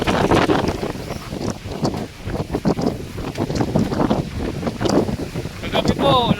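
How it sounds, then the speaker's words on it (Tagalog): Strong wind gusting beside a river in a barangay in Masantol, Pampanga, roaring and buffeting the microphone in loud rising and falling surges, with voices partly buried in the noise. "lakas ng hangin"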